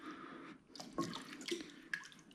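Water is poured from a tap into a pot of lentils for dal tadka, a splashy, dripping flow with irregular bursts, moderately close and without speech.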